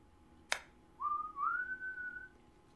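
A sharp click, then a single whistled tone that slides upward and holds, clear and close in a quiet room.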